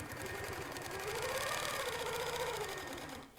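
A long arm quilting sewing machine stitches a table runner with a rapid, steady mechanical whir and clatter, rising slightly in pitch and then settling before it stops at the end.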